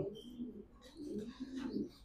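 A pigeon gives soft, low cooing calls, several throaty phrases in a row, close by and fairly quiet, with no talking.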